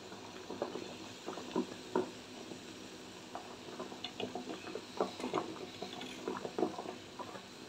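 Water bubbling and simmering in a pot on the stove for double-boiling a soap base, with soft irregular bubbling and light clinks, faint and close, no voices.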